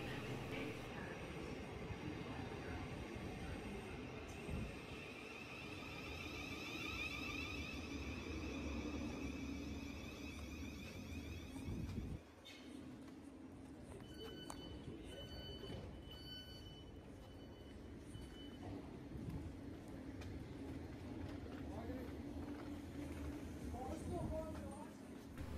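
Thameslink commuter train pulling into platform 9 at Wimbledon station, a steady rumble with rising and falling tones, high squealing and whining around the midpoint, continuous and fairly loud throughout.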